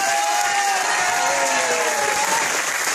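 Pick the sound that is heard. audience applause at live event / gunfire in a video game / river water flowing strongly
audience applause at live event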